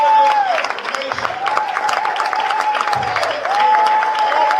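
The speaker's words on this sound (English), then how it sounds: "Can we get a round of applause for them coming?" An audience at an opportunity meeting claps in a steady, dense wash of applause lasting several seconds, with a voice carrying over the crowd.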